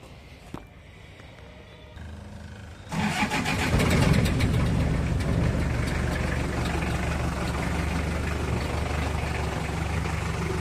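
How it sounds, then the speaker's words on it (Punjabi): A modified Ford jeep with big tyres turns over and catches, then settles into a loud, rough, steady idle with engine knocking and a throaty rumble close by. "ਇਹ ਗੱਡੀ ਸਟਾਰਟ ਆ ਜੀ ਸਿਰਫ ਇੰਜਨ ਦੀ ਨੌਕਿੰਗ ਸਾਊਂਡ ਆ"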